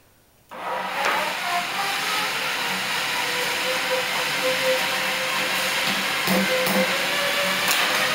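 Ball mill switched on to tumble firework stars, starting abruptly and then running as a steady rumbling, hissing churn with occasional knocks, close and continuous.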